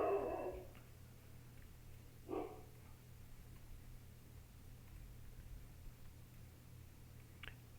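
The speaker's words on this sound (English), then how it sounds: "I don't think he even knows what he's barking at" Dog barking in Farming Simulator 22, one short bark near the start and another faint one a little later, set against a steady low hum of background ambience. No one is talking.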